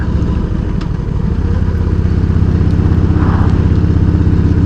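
A motorcycle out on a leisurely ride, its engine a loud, steady low rumble with a constant droning roar close to the mic and some wind noise on top, no talking.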